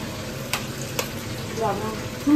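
Hot oil popping and spattering in a frying pan while cooking at a picnic, a low steady sizzle broken by a few sharp louder pops.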